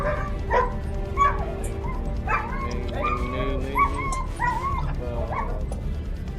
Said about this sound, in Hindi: ओह माय गॉड, कुत्ते भी पागल हो गए।